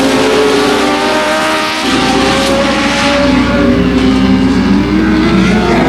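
Loud dirt track race cars roar around the track in a close pack, engines wailing and rising as they barrel into the turn, with a sustained near-continuous drone.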